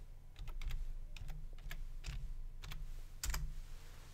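Someone types a folder name on a computer keyboard in a quiet room, producing short bursts of crisp key clicks separated by brief pauses.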